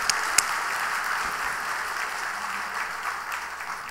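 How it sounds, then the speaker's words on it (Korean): Church congregation applauding during a Sunday worship service in Haeundae, a steady wash of clapping from many hands held at moderate level throughout, with no talk over it. "우리 다시 한번 환영하면서 뜨겁게 박수하십시다."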